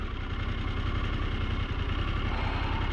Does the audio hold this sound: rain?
no